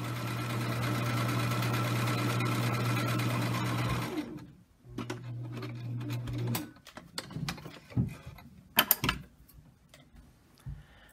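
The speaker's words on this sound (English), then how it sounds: "Once you've sewn the first long edge, then sew the other long edge." A sewing machine stitches the long edge of a fabric face mask, a steady close mechanical hum for about four seconds, a brief pause, then another short run, followed by scattered small clicks and handling noises.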